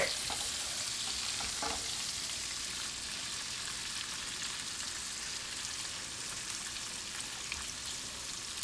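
Diablo shrimp sizzle steadily in a hot frying pan, a dense continuous hiss with a few faint stirring clicks, fairly quiet and close with no talk.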